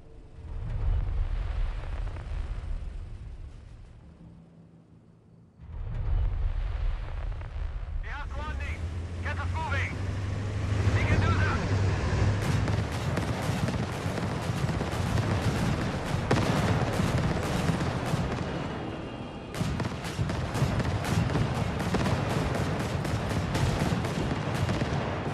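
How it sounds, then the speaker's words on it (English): Fuel tanks blowing up at an outpost in Company of Heroes 3, heard as heavy rumbling explosions and crackling gunfire that build into a dense, continuous battle roar, with voices talking over it. "Our primary targets are the fuel tanks in this outpost. They are highly explosive, so attack them at a safe distance."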